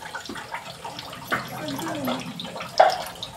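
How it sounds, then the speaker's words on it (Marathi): A kitchen water tap runs steadily with a soft, continuous splashing, while brief voices break in over it. "नळ बंद कर."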